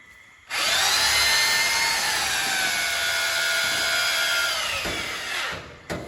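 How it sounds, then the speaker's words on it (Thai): A power drill bores through a new car part in a workshop, a loud, steady high whine lasting about five seconds close up, dropping off as the bit breaks through, then a brief final burst. "เจาะให้ทะลุเด็กของใหม่แล้ว"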